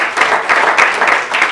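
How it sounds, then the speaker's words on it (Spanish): Church congregation applauding during a Spanish-language service, a short burst of clapping that rises and falls in uneven waves, fairly loud and close, with no talk over it. "Denle un aplauso al Señor."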